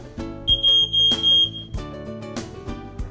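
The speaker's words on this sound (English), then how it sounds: "There is a smoke detector in every one of our residences." A residential smoke detector sounds a shrill, steady electronic beep in a few repeated pulses, loud and close, with no talking.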